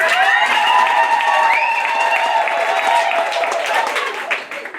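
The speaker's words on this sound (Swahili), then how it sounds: "Mpe makofi kubwa." Easter Sunday church congregation at St. Henry's in Makindu bursting into loud, sustained applause mixed with cheers and ululating voices, fading slightly toward the end.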